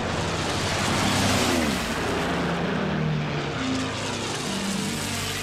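Propeller aircraft of the German air force drone steadily overhead over England in summer 1940, a broad continuous hum that swells slightly and then holds, with no voices.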